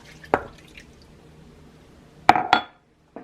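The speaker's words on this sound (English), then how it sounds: "And then you're going to add in the milk" Milk poured into mashed sweet potatoes in a mixing bowl for a sweet potato casserole, heard as a few short wet splashes and light glassy clinks, fairly quiet and with no voices.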